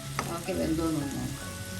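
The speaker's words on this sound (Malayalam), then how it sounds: "കുറച്ച് സമയം കൂടെ ഒന്ന് വഴറ്റും." Bitter gourd curry sautéing in a pan, a steady close sizzle with a soft stirring scrape partway through and no talk.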